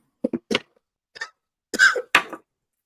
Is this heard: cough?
yes